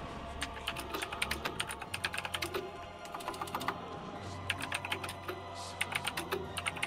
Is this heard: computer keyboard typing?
yes